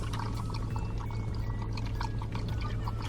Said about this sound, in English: Okay, Kara, I'm gonna put some water for you right here for when you get thirsty.